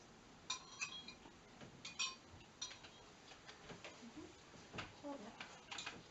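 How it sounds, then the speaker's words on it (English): A knife slices dill rye bread at a kitchen table, with repeated soft crunchy strokes and clinks of cutlery and dishes, quiet and close, amid a faint background voice. "I'll slice some more bread."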